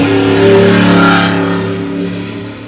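Pro comp truck engine revving loudly during a High Desert 100 race in Powell, Wyoming, a strong close roar that rises and then fades slightly as it passes, with no talk.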